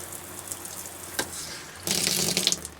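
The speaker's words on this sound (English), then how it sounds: "What I would do is run it through the shower head." Pink antifreeze runs through a camper shower head while winterizing, a soft trickle that swells into a louder spraying gush partway through, close by and without talk.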